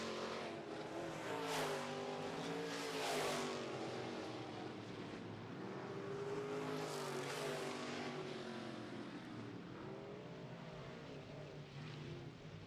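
Midwest Modified race cars roar around a dirt oval during a heat race, engines rising and falling in pitch as they pass and sweep toward the turns, a loud continuous drone with no talk over it.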